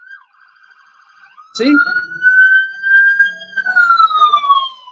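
A siren wails loudly and close, rising into a sustained high tone and then sliding slowly downward, with a brief spoken word at its start.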